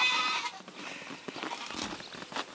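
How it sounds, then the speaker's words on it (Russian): Young goats bleat in a farmyard pen, several fairly close cries over a faint background of rustling and movement, no speech. "Вот такие козлики у нас."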